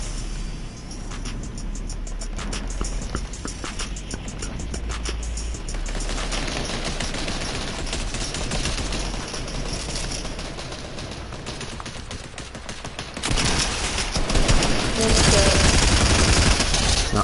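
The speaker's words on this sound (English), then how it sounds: "got gunshots over there." Dense, continuous video game gunfire rattles throughout, with rapid bursts overlapping, joined by voices talking over it; the barrage grows louder near the end.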